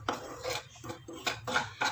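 Semolina frying in a little oil in a pan is stirred with a utensil, giving rhythmic scraping and clinking strokes about every half second, close and moderately loud, with no talking.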